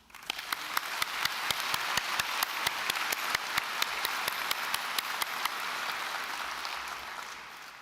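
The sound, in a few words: applause at graduation ceremony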